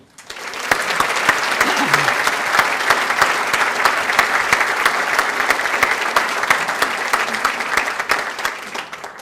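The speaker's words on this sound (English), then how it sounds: "Please clap your hands now" An audience at the Cornucopia 2015 award presentation claps steadily for several seconds, with a dense, loud wash of many hands applauding that holds evenly before tapering off at the end.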